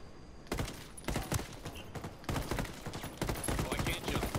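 Gunfire in a shooter video game, heard as several bursts of rapid shots in a loud, dense sequence with brief gaps between them, and no clear talk over the shooting.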